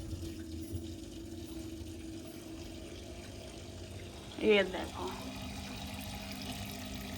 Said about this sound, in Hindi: ये फाउंटेन है छोटा सा, इसमें लाइटिंग और पानी चलता है।